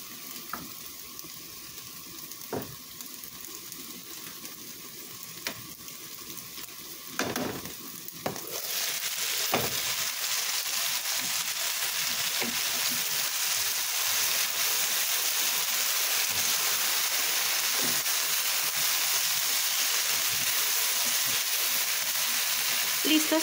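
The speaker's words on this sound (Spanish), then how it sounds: "Ahorita están con fuego lento, fuego bajito, y ya cuando veamos que se están cocinando más le subimos el fuego" Asparagus frying in a pan over low heat, a faint crackle with occasional pops at first, then a loud, steady sizzle filling the kitchen.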